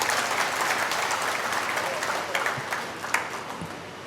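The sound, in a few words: audience applause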